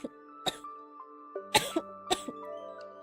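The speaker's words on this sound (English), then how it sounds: "I don't know why I've been coughing as of late." A person coughs several times in short, dry bursts, with throat clearing between them, close and fairly quiet against a soft background tone.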